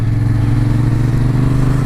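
A 2016 Yamaha MT-07 motorcycle engine runs loud and close, a steady throbbing drone that holds an even pitch throughout with no talk over it.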